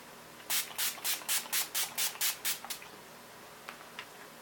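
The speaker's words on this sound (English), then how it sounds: "So first I'll be using this Clinique Moisture Surge Face Spray." A quick run of about nine sharp bursts of Clinique Moisture Surge face mist in a steady rhythm, close and crisp, followed by a couple of fainter puffs.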